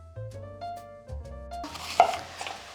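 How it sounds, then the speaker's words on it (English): An apple is sliced with a knife on a kitchen board, giving one or two crisp cuts near the end, after a stretch of soft tonal music. "I'm gonna peel the apple and then cut it into slices."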